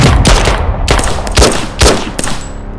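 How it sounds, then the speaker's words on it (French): Rapid bursts of gunfire, many shots fired at a Chevrolet Tahoe in a street ambush, crack out loud and close in several clustered volleys over about three seconds, with no voices. "witnesses say the gunfire just broke out"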